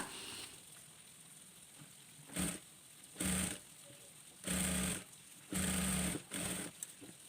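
Sewing machine hemming an abaya sleeve with a small folded edge, running in five short bursts of whirring stitches separated by quiet pauses, close and clear with no talking.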